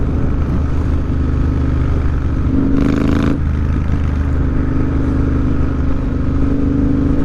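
A motorbike riding along an English countryside road, a loud steady engine drone with constant wind rush throughout and a brief rise in pitch partway through, no talking.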